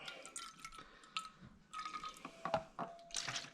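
Liquid trickles and drips in short bursts, with small splashes and gurgles close by, no voices.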